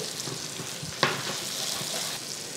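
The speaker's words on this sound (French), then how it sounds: "On va déglacer notre poêle avec un jus de citron." Lemon juice hits a hot frying pan used for trout with almonds, giving a steady close sizzle with a sharp splash-like burst near the start, then continuous frying hiss with no talk.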